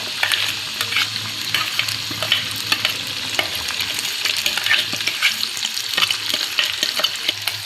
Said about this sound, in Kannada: ಇದು ಎಣ್ಣೆ ಒಳಗೆ ನೀಟಾಗಿ ಫ್ರೈ ಆಗ್ಬೇಕ್ರಿ.